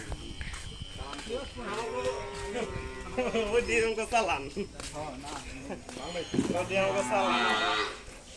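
Cattle moo several times, drawn-out low bellowing calls with a nasal buzz, fairly close, while people talk in the background.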